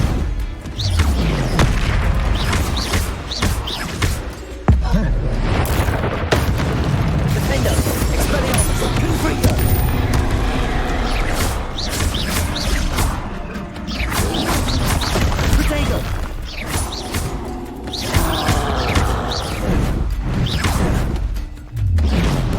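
Confringo blasting spell explosions during Hogwarts Legacy combat, a loud continuous barrage of booms, crashes and whooshes with repeated hits throughout, mixed with other spell effects and game sounds.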